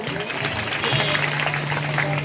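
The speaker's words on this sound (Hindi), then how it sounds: "एक बार ताली बजा दो।" An audience claps steadily and fairly loudly at a devotional Krishna leela performance, sustained applause for the musicians with a faint tonal hum beneath it.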